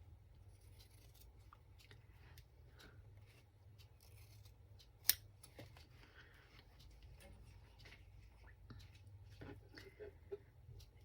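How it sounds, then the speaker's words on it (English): Scissors snip through fabric near a hem, a series of faint, close, irregular cuts with one sharper click midway and soft handling noises between. "I need to cut this so that the hem is still there, and I'm going to cut away from it just a little bit"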